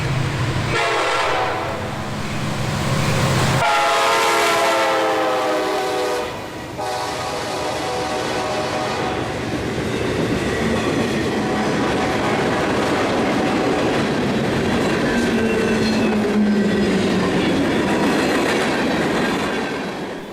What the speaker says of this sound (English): The first train to come into view was the CSX Q438, daily freight